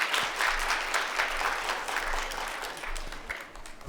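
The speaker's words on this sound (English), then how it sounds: "Can you give him a round of applause" A church congregation breaks into applause during a sermon, a full, loud wash of clapping that holds steady and then gradually thins toward the end.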